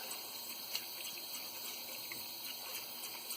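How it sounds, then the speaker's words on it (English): Water runs steadily from a tap into a sink while a face is washed, a soft continuous hiss with faint splashes, quiet and close, with no talking. "I'm about to wash my face off and get off yesterday's eye makeup"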